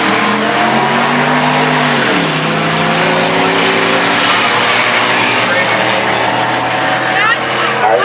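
A race car engine roars steadily on track, loud and continuous with pitch sweeping down and climbing again as it works through traffic, under an excited commentator's voice.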